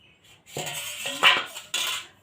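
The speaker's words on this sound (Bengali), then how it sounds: "এবার কিন্তু ঢাকনাটা খুলে" A metal lid comes off a pot of soya chunk biryani made with ordinary rice, giving several short close clinks and a brief ringing scrape against the rim, with no talk.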